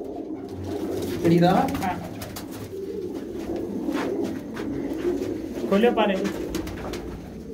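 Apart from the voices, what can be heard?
pigeons cooing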